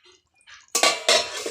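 A metal lid is set onto a pot of chicken curry on a gas stove, giving a couple of sharp clanks a moment apart after faint earlier rattles, close and loud.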